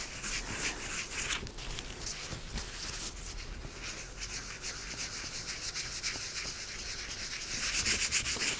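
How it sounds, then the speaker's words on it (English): A cloth wipes excess ink off a drypoint printing plate with soft, continuous rubbing strokes, quiet and close, with no talking. "I'm going to wipe off the excess ink"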